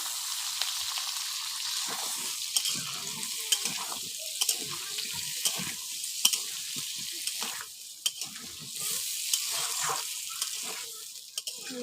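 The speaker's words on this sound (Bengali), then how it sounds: "দেখুন আলুগুলো ভাজতে ভাজতে লাল হয়ে যাবে" Potatoes frying in hot oil with onions in a home kitchen pan, a steady crackling sizzle with scattered stirring clatters and brief pops, close and moderately loud with no talking.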